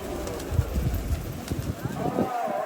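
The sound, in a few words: pigeons cooing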